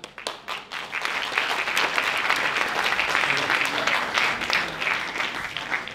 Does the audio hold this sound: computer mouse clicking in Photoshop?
no